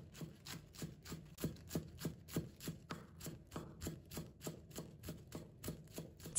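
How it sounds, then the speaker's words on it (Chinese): Knife chopping green onions into small pieces on a board, a steady rapid series of crisp, close taps repeating evenly throughout. "接下来再准备几根小葱，把它切成葱花"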